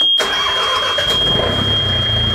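A fishing boat's engine starts with a short burst and settles straight into a loud, steady, close-up running rumble with a faint high whine over it.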